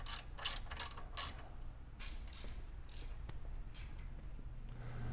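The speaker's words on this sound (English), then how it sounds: "we're going to let it slide all the way down on both sides and tighten it up" A ratcheting wrench tightens the roof rack fairing mounts on a fifth-generation Toyota 4Runner, with quick bursts of close metallic clicking and creaks followed by a few single taps over a low outdoor hum.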